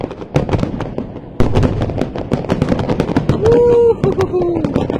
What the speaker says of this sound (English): I've never watched fireworks in Saumur, so it's unique for me too.